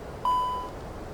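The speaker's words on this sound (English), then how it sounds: "The beeping is because of the speed brake, because I extended it" One clean electronic tone sounds once, steady and fairly loud, as the speed brake warning in a Prepar3D flight simulator cockpit, fading over about half a second against a faint background hum.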